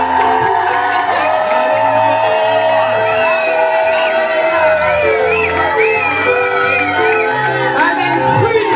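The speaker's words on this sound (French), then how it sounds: "on va continuer à acclamer le Seigneur" At a baptism ceremony in a church, the congregation cheers and acclaims with loud whoops, shouts and crowd roar over background music, while voices call out throughout.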